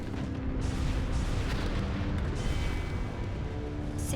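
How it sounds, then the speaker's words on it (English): Tanks opening fire across a floating island in the game Fuga: Melodies of Steel 2, heard as a dense, continuous rumble of booming artillery that never lets up, loud and alone with no voices. "All tanks within range of that monster opened fire."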